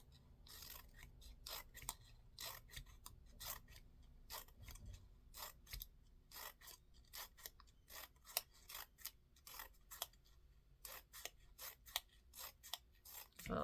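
Scissors snip through paper for a book-folded swirl flower decoration, a long run of quick, irregular crisp cuts with faint rustling between, close and quiet, no talk.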